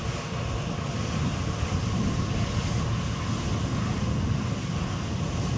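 Embraer RJ145 regional jet at Edinburgh airport, a steady broadband engine roar with wind-like rumble that holds constant and fairly loud throughout, with no voices.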